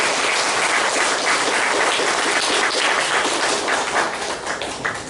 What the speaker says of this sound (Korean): 박수를 올려주시면 감사하겠습니다.